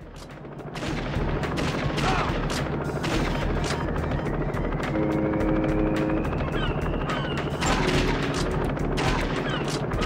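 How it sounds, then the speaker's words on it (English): Constant loud helicopter rotor thumping with bursts of gunfire and explosions layered over it, in a dense battle soundscape from the PS2 game Virtua Cop 2. "Who's flying the helicopter?"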